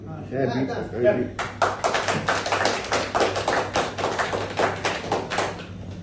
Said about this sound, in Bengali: আমরা একটু হাততালি দিব আর কি